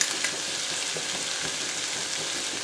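Spices such as turmeric, coriander and cumin powders, chili powder and kitchen king masala are stirred into a pan of frying drumstick pods for a dry Marathi bhaji, giving a steady close sizzle with light stirring scrapes throughout.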